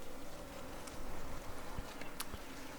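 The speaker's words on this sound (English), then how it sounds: "The bees are nice and quiet," Honeybees humming softly inside an insulated Layens horizontal hive during an inspection, a faint continuous buzz with occasional light taps and rustles.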